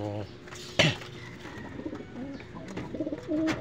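Soft pigeon coos repeat in the foreground against outdoor background noise, with a brief louder clatter near the start.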